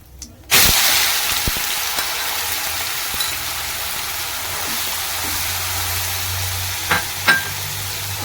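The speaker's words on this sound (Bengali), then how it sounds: "বন্ধুরা, আমার তেল গরম হয়ে গেছে, আমি তেলের মধ্যে জিরে দিচ্ছি।" Cumin seeds dropped into hot oil burst into a loud, steady sizzle that starts abruptly and hisses on evenly, with a few soft clinks of a utensil against the pan.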